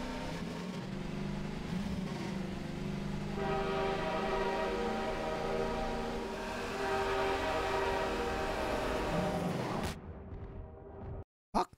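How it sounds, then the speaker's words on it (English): Train in the Half-Life video game rumbling close by with a steady mechanical roar and tonal hum for about ten seconds, then cutting off abruptly into near silence. "I wonder if I could run away from the train."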